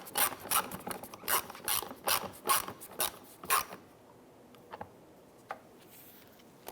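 Screws being tightened by hand while mounting a fog light on a 2009-2015 Honda Pilot, a run of close, rhythmic ratcheting clicks and scrapes for about four seconds, then a few isolated ticks in near quiet.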